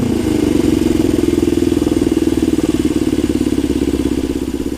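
A custom Suzuki GS450 scrambler motorcycle engine idles close by with a steady, even rhythmic pulse, warmed up after running for several minutes, loud and alone.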